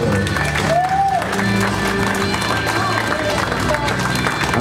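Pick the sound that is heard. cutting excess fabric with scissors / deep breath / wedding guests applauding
wedding guests applauding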